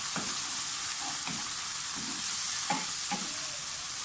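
Tomatoes sizzle in a pan with vegetable chutney for cabbage, while a spoon stirs in short scraping bursts over the steady frying hiss; no one speaks.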